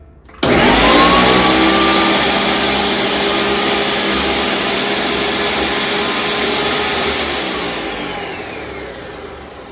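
A kitchen blender whirs steadily through a papaya pudding mixture, a loud, continuous motor roar that starts abruptly and slowly winds down near the end, with no voices over it.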